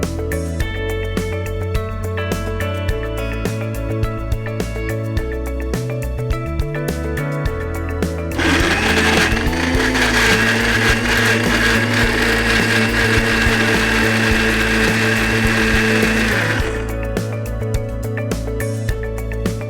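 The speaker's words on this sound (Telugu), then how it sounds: "కొద్దిగా మిక్సీ పట్టేస్తాం." A kitchen mixer grinder whirs loudly for about eight seconds, grinding raw mango pickle with sugar. Quieter kitchen sounds come before and after the burst.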